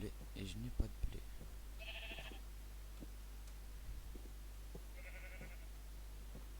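Two short sheep bleats from Minecraft, spaced a few seconds apart over a faint steady background, with a brief bit of talk at the start.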